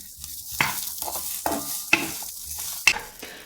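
Cut onion and garlic fry in a pan for a fish curry, giving a loud close-up sizzle with several distinct scraping bursts as a spatula stirs them at irregular intervals, and no one speaking.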